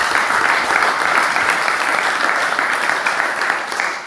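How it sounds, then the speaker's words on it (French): A congregation claps warmly during a sermon, a dense, even wash of hands that holds steady for about four seconds and thins slightly at the end, with faint voices mixed in. "Applaudissons pour la femme."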